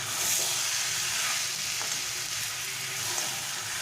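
Taro leaves (kochu shak) being stirred and cooked in a pan with coconut, a steady close sizzle and frying hiss running continuously, with faint scrapes of stirring.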